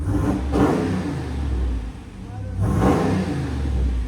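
A RAM 6.4L HEMI V8 with a loud aftermarket exhaust, a deep idle broken by two short revs, close and loud, with faint voices nearby.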